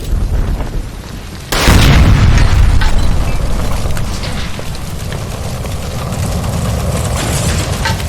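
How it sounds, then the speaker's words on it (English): A gas line explosion in the video game L.A. Noire: a sudden loud boom that bursts in and then rolls on as a long, sustained roar of fire and rumble, with no voices. "Shoot the gas line, Cole, we're out of here!"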